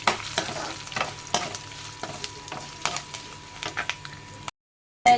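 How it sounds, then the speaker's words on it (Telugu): Telugu-style tempering of two chillies, curry leaves and asafoetida frying in oil for pappu, a close crackling sizzle with repeated sharp pops and stirring, ending abruptly. "అయితే తాలింపు అయితే వేగిపోయిందండి."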